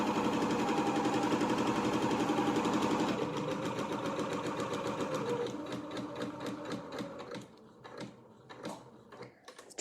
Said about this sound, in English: it's doing a few stitches on the spot